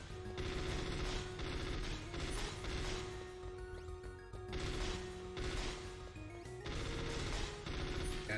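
Rapid gunfire from shooting targets in Metal Gear Solid: VR Missions, a continuous loud barrage of shots with crashing impacts layered over game music, no talking.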